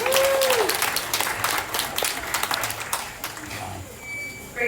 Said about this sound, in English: let's give them a great big round of applause for the effort they did